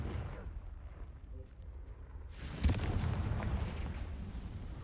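A Confringo spell goes off in Hogwarts Legacy, a sudden fiery explosive burst erupting out of quiet rumbling and trailing into crackling, roaring debris.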